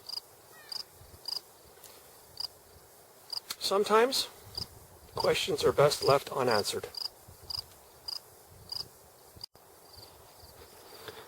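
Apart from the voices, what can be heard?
cricket chirping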